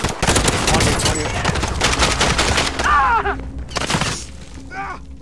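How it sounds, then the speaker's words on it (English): Bursts of automatic gunfire in Call of Duty: Modern Warfare multiplayer, rapid loud volleys in the first half, then thinner scattered shots with distant chirping effects. "Someone's still shooting."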